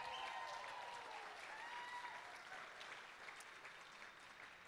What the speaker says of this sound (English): You know, go ahead and applaud.